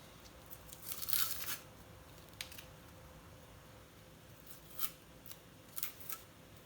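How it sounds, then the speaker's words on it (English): Masking tape being peeled off a homemade barrel extension, with a few short tearing rips and crinkles at scattered moments, close and faint against a quiet background. "let's just remove the masking tape."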